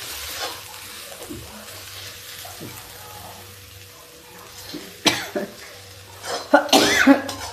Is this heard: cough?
yes